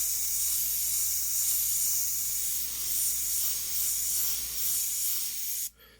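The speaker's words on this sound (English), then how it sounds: "Just lightly spray it in." Airbrush or spray can lightly misting paint onto a Claybord panel while painting a Corvette, a steady close hiss that runs continuously for several seconds and cuts off abruptly near the end.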